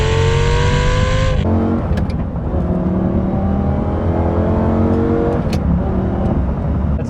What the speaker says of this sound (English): This has a 5-liter V10 engine and it just sounds